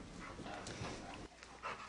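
Dog panting softly in a hotel reception, steady breathy huffs close by at low level, ending with a brief louder noise.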